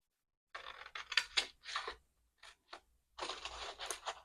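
Scissors snip into a paper panel at a crafting table in short, crisp, close cuts. A brief silence follows, then more rapid cutting.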